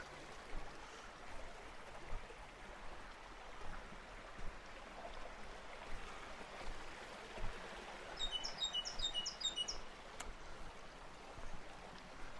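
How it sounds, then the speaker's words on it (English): Birds singing in Tasmanian bush near Cradle Mountain, a few high chirping calls coming in bursts over a soft continuous background hush like flowing water, fairly distant and quiet. "And the bird song's really quite uplifting."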